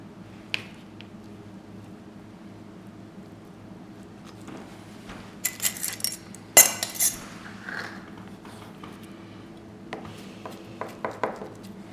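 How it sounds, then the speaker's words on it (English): Feta cheese is cut into pieces with a knife: scattered soft squishy slices and clinks of metal against a dish, in bursts between quieter moments over low room hum. "And then we will go ahead and cut the cheese into pieces."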